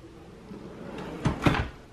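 A household junk drawer in a cluttered kitchen cabinet is pulled open, giving two close wooden thumps and rattles about a quarter second apart over a quiet room.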